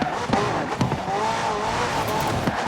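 A McLaren P1 GTR with a twin-turbo V8 engine, driven in Forza Horizon 4, holds a steady, strained engine drone with shifting pitch, broken by a few brief thumps and clicks, under a narrating voice.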